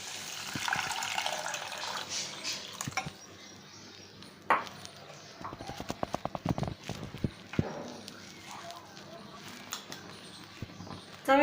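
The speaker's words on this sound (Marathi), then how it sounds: "आपण बॉईल करताना जे मटकीचं पाणी होतं आपलं ते आपण टाकूया" Water saved from boiling moth beans pours into a pan of misal masala with a brief splashing gush, followed by a run of rapid utensil clatters and taps.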